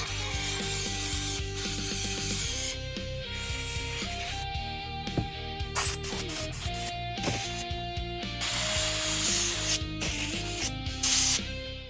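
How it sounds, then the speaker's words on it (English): The bore of a Brembo front brake master cylinder from a KTM is rubbed and honed out, producing close, steady rubbing and scraping with small metallic clicks and ratcheting, quiet and without speech. "I'm just gonna rub through this bore just to maybe see if it can kind of hone it out"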